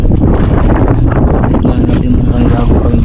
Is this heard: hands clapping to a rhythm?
no